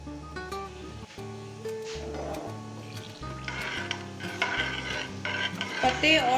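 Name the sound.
frying red chillies and curry leaves in oil in a pan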